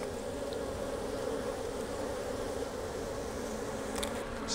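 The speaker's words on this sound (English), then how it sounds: "Tons of bees in here." Honey bees buzzing around an open hive during a colony split, a dense, steady drone filling the air continuously with no speech over it.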